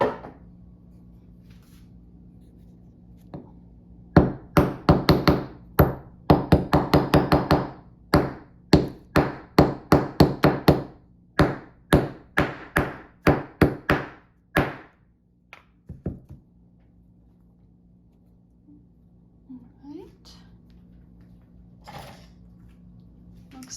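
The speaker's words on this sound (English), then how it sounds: "So I'm gonna use just a small hammer." A small hammer taps repeatedly in quick, uneven bursts of sharp, close knocks while attaching a small sculpture to a base, pausing now and then, before a few scattered final taps.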